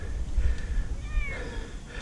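A stranded cat in need of rescue meows several times, with plaintive, wavering calls close to the microphone over low background rumble.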